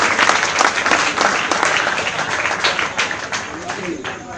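Loud audience applause for a prize winner at a Quafila competition award ceremony, dense clapping held steady throughout with some crowd voices mixed in.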